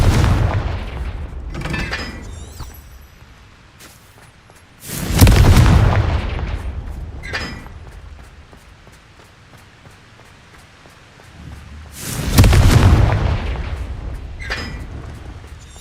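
Confringo fire-spell blasts in the video game Hogwarts Legacy land as two heavy, booming explosions several seconds apart, each with a long rumbling tail, over quieter crackling game ambience.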